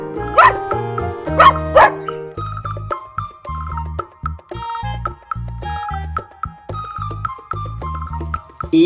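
A couple of dog barks up front, then steady rhythmic nursery-rhyme music with a bouncing beat continues underneath.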